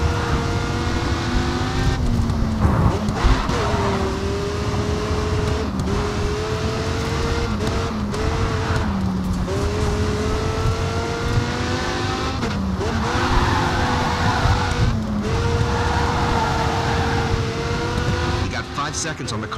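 Dodge SRT Viper GTS race car in Grid 2 on a California track, engine droning loud and steady with rising and falling gear pitch, occasional tire squeal, and a voice talking over it.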